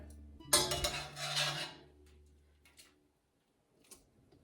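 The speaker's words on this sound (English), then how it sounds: "just throw it right in the pan just as it is" Cooked gluten-free spaghetti noodles are dropped into a metal pan in a kitchen, a sudden clattering thud with scraping metallic rattles that fade, then a few faint clicks.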